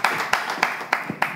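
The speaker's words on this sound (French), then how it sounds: "on applaudit pour lui" Rhythmic clapping beats out an even, fairly quick pulse at a DJ event, cheering a six-year-old boy; about five sharp, close claps land at regular intervals.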